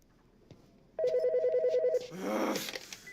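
A reception desk telephone rings in the video game As Dusk Falls, a loud electronic trilling burst lasting about a second, followed by a rougher, noisier swell of game sound.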